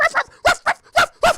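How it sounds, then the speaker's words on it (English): Two dogs trade a rapid back-and-forth of about six sharp, close barks in short bursts, each separated by brief pauses. "You ever seen that meme where 2 dogs are barking at each other and there's a divider in the middle?"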